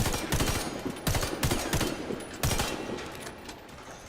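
R4A1 rifle in the shooter game Warface firing several loud automatic bursts, rapid cracking shots in short strings with brief pauses between.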